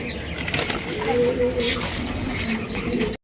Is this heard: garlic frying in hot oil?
no